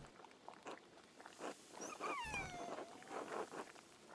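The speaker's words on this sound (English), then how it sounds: "there's like a dog in the background. You can hear him barking and whining." In the medieval abbey-town game Pentiment, a background dog gives several short, faint barks and then a high, drawn-out whine that slides downward, all quiet and set back in the scene.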